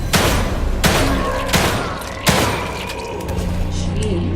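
Gunfire aimed at an enemy in The Evil Within 2, with several loud sharp shots spaced about a second apart, each followed by a ringing echo.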